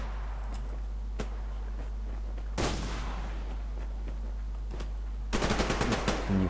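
Bursts of automatic gunfire in the shooter game Survarium: a single shot, then a dense burst, a lone crack and a final rapid rattling volley over a constant low drone.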